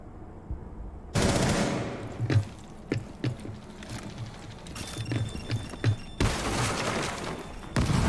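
Video game gunfire, hip-fire shots at close range, rings out in sharp, loud bursts and rapid single cracks over a steady background rumble, with dense firing near the start and end.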